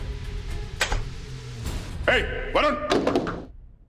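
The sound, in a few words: door being slammed or banged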